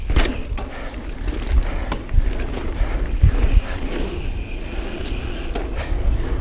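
Pivot Mach 6 aluminum mountain bike riding a punchy, loose, rocky downhill at speed, with steady rushing wind across the microphone and rattling tire and trail noise throughout, loud and continuous, no talk.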